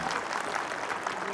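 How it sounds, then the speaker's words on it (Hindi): An audience at a CBSE education address to principals, parents and pupils breaks into loud, steady applause, a dense wash of clapping that fills the whole moment without a break. "के लिए तालियां बजा दीजिए जोर से।"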